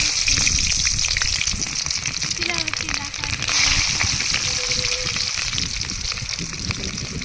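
Onion dropped into hot oil on a griddle at a riverside cookout, giving a steady, loud crackling sizzle that runs throughout, with faint voices and outdoor noise behind.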